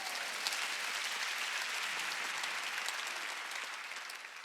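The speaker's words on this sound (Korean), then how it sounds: "박수치라는 거예요" A Korean church congregation clapping during a Sunday healing service, a steady, dense wash of many hands heard from some distance, fairly quiet and fading slightly toward the end, with no voices.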